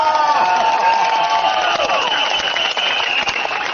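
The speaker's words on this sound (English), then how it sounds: "The crowd has warmed up with occasional claps and laughter" A political rally crowd in Hougang makes a steady, dense wash of noise with scattered clapping and cheering, sustained throughout and mixed with indistinct voices.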